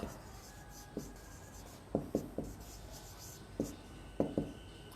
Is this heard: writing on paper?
yes